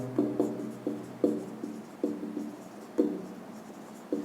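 Chalk or marker strokes on a board as a chemistry question is written during a class, a series of short scratchy taps and scrapes in an irregular rhythm, close and fairly soft, with no talking.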